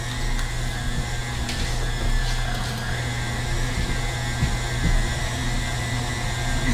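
Electric mixer running on high, whisking carrot cake cookie frosting, a steady loud motor whir with a faint whisk rattle that holds unbroken throughout, with no talking.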